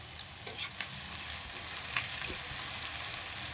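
Onions fry in a pan at the start of a chicken curry (chicken kosha), a soft continuous sizzle with occasional stirring scrapes and clicks.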